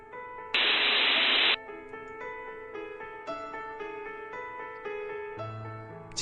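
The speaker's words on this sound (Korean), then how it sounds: "지직거리는 소리가 들렸다." Burst of harsh radio static from a speaker, about one second of loud hiss. It cuts off into quieter sustained tonal hum and electronic drones.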